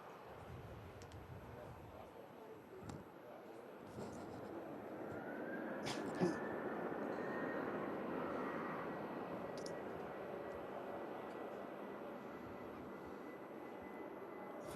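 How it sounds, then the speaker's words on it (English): A Ryanair Boeing 737 lines up on the runway at Manchester Airport, bound for Dublin, its engines a steady, moderate broadband roar with a faint rising whine, heard from a distance and holding level throughout. "Just lining up to head back out to Dublin. Ryanair 737."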